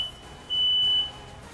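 A fire alarm gives one sustained, piercing, high-pitched beep of about half a second, loud and close over faint room noise.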